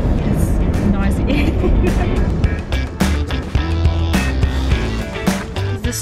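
A 1990s camper Jeep rolls along a winding scenic road, its engine and road noise forming a loud, steady rumble throughout, with a voice talking over it.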